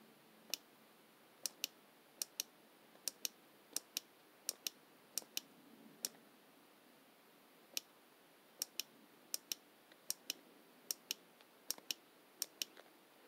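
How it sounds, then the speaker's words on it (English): The button on a universal speedometer is clicked repeatedly, crisp, close, sharp clicks at an irregular pace, sometimes in quick pairs, against a quiet background. "You got to hold it in to skip to the next one and click it to do it."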